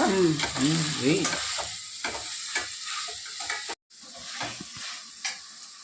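Mutton curry with drumsticks stirred in a pan as turmeric and salt go in, a soft sizzle under scattered scraping strokes of the spoon, fairly close, with a brief dropout near the end.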